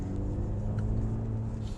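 A 2019 BMW 3 Series drives through turns with a steady, droning engine hum and low road rumble heard from inside the cabin.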